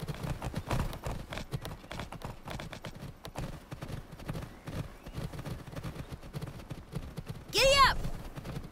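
Game horse hooves clip-clop steadily at a riding pace throughout, with a short whinny or neigh rising near the end over the ambient game sound.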